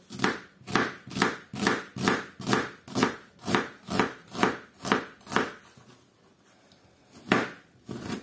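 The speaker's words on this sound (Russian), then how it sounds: "Сейчас будем нарезать лук. Лук надо будет нарезать мелко." A knife finely chops an onion on a board, about fourteen even, crisp strokes in a steady rhythm, then a pause and one final chop.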